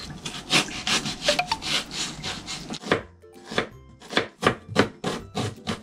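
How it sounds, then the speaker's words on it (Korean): A knife slices onion on a cutting board in a quick run of crisp, evenly spaced chops, close and fairly loud, with a short pause midway before the rhythm resumes; no one speaks. "이쁘게 놓고 골고루 씹히기 좋게끔 이렇게 썰어줄게요."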